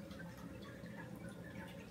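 Lavender steam distillate drips steadily from a condenser during home essential oil distillation, a soft continuous trickle and patter close by, with no talking.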